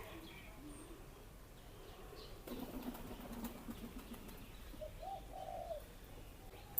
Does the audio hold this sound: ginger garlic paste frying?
no